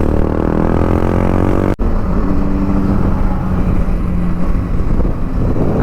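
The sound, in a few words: motorcycles riding on a highway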